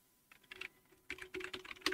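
Commands are typed on a computer keyboard, with quick clusters of crisp key clicks in an irregular rhythm, close but quiet, with no voice.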